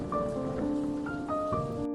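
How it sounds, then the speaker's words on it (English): Heavy rain pours steadily at night outside a curtained house, a dense continuous wash with faint low rumbles of thunder mixed beneath and a few tonal sounds drifting over it. "It was raining more heavily now. Thunder flashed through the curtains every now and then"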